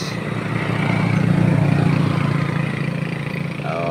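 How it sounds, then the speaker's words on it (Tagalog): A kuliglig hand tractor engine runs steadily as it circles in a rice paddy, a near, continuous mid-pitched drone that swells slightly then eases, with no speech. "Paikot-ikot lang yung kuliglig ni Kuya guys."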